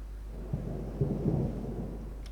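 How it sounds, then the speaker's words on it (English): Low rolling thunder in a naval battle in the video game Ultimate Admiral Dreadnoughts, a few soft rumbles rising over a steady low drone and fading again, with no voices. "And I can hear the thunder."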